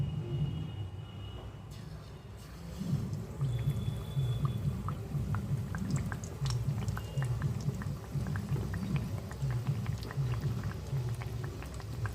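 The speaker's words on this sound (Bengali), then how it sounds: "এই যে কড়াতে তেলও বসিয়ে দিয়েছি এখন বেগুনিগুলি গরম গরম ভেজে তুলে নেবো" Oil heating in a wok for frying eggplant fritters, a steady bubbling sizzle that swells after a couple of seconds and continues close and even, with no talk.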